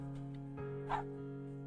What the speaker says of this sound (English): Neighbor's dog is fussing up again.